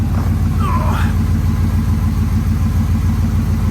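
A 1999 Toyota Land Cruiser's rebuilt, high-mileage engine idles steadily and loudly nearby, a constant low rumble with a brief higher sound near the start.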